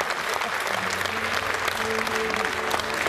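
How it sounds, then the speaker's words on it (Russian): A concert audience in Bulgaria applauds warmly, a dense, continuous wash of clapping filling the hall at moderate loudness for a few seconds. "Под ваши аплодисменты бурные."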